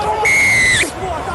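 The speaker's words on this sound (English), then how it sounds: "a shrill blast of his whistle to signify the first penalty of the game" A referee's shrill whistle blast signalling the first penalty at a rugby test match between Argentina and France in blustery Buenos Aires, one long piercing note over crowd noise.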